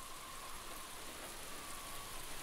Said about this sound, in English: Can you feel rain?